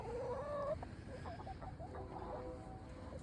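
Chickens cluck softly inside a backyard coop in a Colorado garden, a few faint, scattered clucks and calls over quiet background noise.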